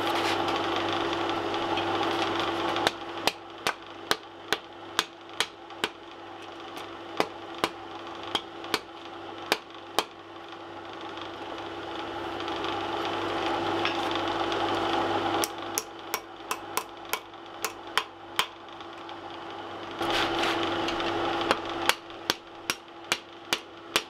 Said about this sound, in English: And then we'll do the rest on the anvil with a wooden mallet.